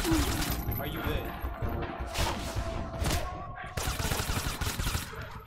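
Rapid bursts of gunfire crackle through a fight in the game Weapons of Fate, with repeated close, loud volleys and heavy thuds while voices talk over the shooting.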